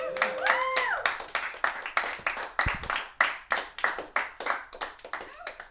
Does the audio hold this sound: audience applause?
yes